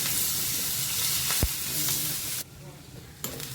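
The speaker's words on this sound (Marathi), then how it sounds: "सगळं मिक्स करायचं आहे नुसतं कांद्याचा कच्चापणा जाईपर्यंतच परतायचं आहे" Onion with ginger and green chillies sautéing in a pan, a steady close sizzle with stirring scrapes throughout and one sharp clink partway.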